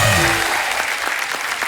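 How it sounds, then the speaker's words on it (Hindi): Thunderous applause from a studio audience welcoming guests on a Hindi comedy talk show, a dense continuous roar of clapping that stays loud throughout after a brief tonal sound at the start. "जोरदार तालियां हमारे मेहमानों के लिए।"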